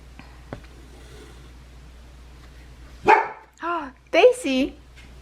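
A pet dog barks indoors: a sudden loud bark followed by a few more yelping barks in quick succession, close by, after a quiet room stretch.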